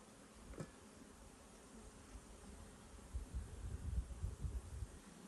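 Honeybees at a hive, not a Caucasian strain, make a faint low buzzing hum that swells slightly toward the end, with a soft tap early on and no voices.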